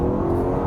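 A BMW X3 M or X4 M Competition at full throttle gives a steady, loud engine roar with a constant droning tone and no pauses.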